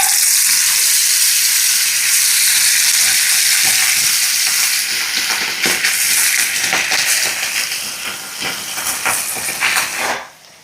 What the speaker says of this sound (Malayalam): മീൻ വറുത്തെടുക്കട്ടെ.